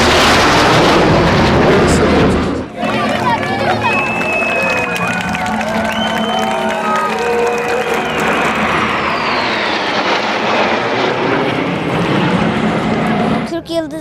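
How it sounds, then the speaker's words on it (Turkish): Six Turkish Stars supersonic jets roar overhead at an air show during a city celebration, a loud sustained rumble that rises and falls as they pass, with a crowd and a commentator's voice underneath. "Türk yıldızlarına ait 6 adet süpersonik uçak izleyiciler tarafından yine büyük ilgiyle takip ediliyor"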